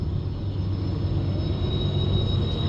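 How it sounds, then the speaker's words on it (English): A train rolls past nearby in a continuous heavy rumble with a faint steady high whine from the wheels, loud and unbroken throughout with no talk. "Oh, that train is really not quiet,"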